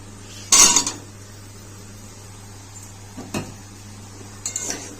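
Potato and pointed gourd cooked with fish roe and spices are stirred in a pan, giving a few sharp metallic scrapes and clanks near the start, middle and end over a low steady hum.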